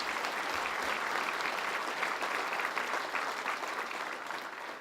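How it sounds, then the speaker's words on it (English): Sustained applause from an audience at a university event with the governor, dense clapping filling the whole stretch at steady loudness, no voices over it. "let's give the provost a big round of applause"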